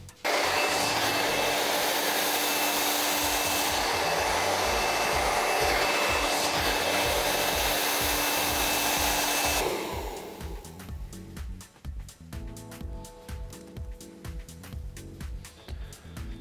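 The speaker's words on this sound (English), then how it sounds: "Then we're going to blow dry through." A hair dryer roars loudly and steadily while blow-drying long hair around a round brush. It then drops to a softer hum with light brush and handling clicks.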